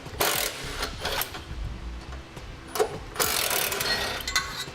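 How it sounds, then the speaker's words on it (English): Socket wrench working on bolts under a 2018 Mitsubishi Outlander during a trailer hitch install, with bursts of rapid ratcheting clicks separated by pauses and a few close metallic knocks. "We're going to use a 14mm socket and get those removed."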